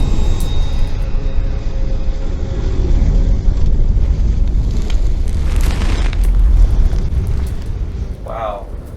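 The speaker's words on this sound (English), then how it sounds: "I'm not confident the butane fireball will even reach the gasoline" A butane fireball ignites a spilled gasoline trail outdoors, producing a sustained loud roaring whoosh that swells and rumbles for several seconds before a brief shout near the end.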